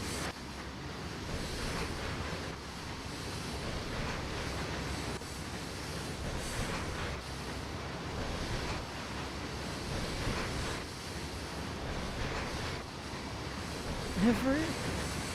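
A train in the Trainz railway simulator rolls past as a steady, broad rumble with a windy, surf-like wash that holds evenly for the whole stretch and swells slightly near the end.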